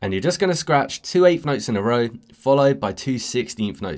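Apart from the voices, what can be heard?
No everyday noise stands out behind the speech.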